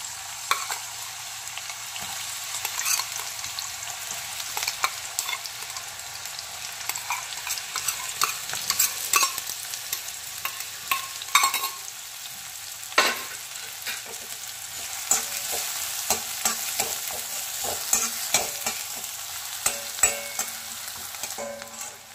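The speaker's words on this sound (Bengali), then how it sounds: "তেল গরম হয়ে গেছে বন্ধুরা। পেঁয়াজ কুচিটা দিচ্ছি।" Chopped onion sizzles in hot oil in a pan, a steady loud frying hiss with stirring scrapes and clicks throughout, no talk.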